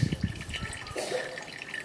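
Blended juice is poured into a small tiny strainer, a soft close trickle and drip of liquid running for a couple of seconds, fairly quiet and without talk.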